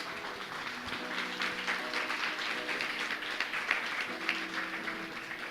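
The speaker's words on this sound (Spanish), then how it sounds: "Le damos un aplauso fuerte al Señor" A church congregation at a Sunday service applauds steadily, a dense wash of many hands clapping throughout, with faint sustained musical tones underneath.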